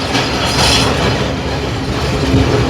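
Train pulling away from Eravur station, a loud, steady close-up rumble of wheels on rails with faint clatter and a brief squeal, and no voices.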